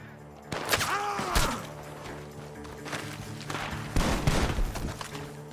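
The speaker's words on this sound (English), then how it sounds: "The gunshots are coming from that barn." Several sharp gunshots crack out from a barn in a video game, in a burst with thuds and scuffling, mixed with game sound effects and a background music bed.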